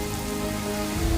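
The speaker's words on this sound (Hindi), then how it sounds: "बारिश और तेज़ हो गई" Heavy rain falls at night in a short, steady patter of drops on a surface, moderately loud and even throughout, with no voices.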